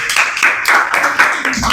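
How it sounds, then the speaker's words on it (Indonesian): Schoolchildren in a classroom clap together in quick rhythmic bursts of applause, with young voices mixed in among the claps. "Betul. Betul. Tepuk tangan."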